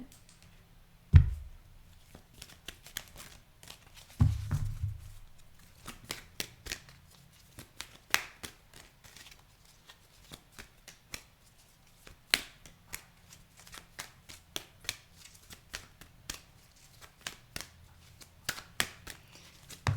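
Tarot cards being shuffled by hand for a collective reading, a steady run of quick papery riffles and flicks with a couple of louder thumps early on, close and alone without talk.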